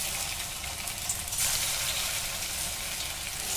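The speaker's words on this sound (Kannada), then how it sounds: "ಈಗ ಕರಿದು ತೋರಿಸ್ತೇನೆ" Mandakki snacks frying in a kadai of hot oil, a steady, continuous sizzle and crackle with a soft hiss throughout, fairly quiet and with no voices.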